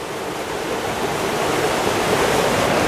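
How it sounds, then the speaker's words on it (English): Water pours out of a fish hatchery discharge pipe into a spring-fed trout river, a loud, continuous rushing splash heard close up with no voices. "This water coming out of this pipe down below me is coming directly out of the fish hatchery."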